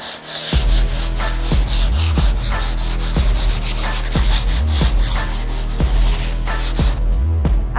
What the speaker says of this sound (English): just some light sanding, the gloss from the timber frame has actually now gone